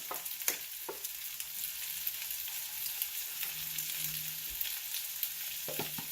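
Chimichanga filling fries in a pan over high heat, seasoned with salt and pepper, giving a steady, close hiss with small crackling pops throughout and no talking.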